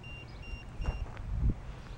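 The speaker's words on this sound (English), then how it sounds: "I could turn off the beeping by hitting the power button one time real fast." A few short, high electronic beeps from a device repeat faintly over low background rumble and some handling noise, during a paranormal investigation at Historic Charlton Park.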